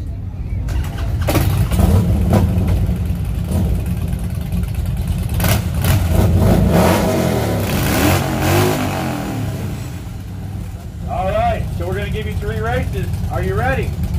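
Motorcycle engines at the Hot Springs Bike Fest 2022 rumble and rev steadily for the whole stretch, a loud, sustained low drone with surging throttle swells, while a crowd talks and shouts over it.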